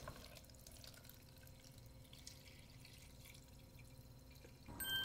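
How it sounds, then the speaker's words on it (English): Filtered water streams steadily into a blender for a smoothie, a continuous soft liquid pour that stops abruptly near the end, followed by a brief clink. "Filtered water."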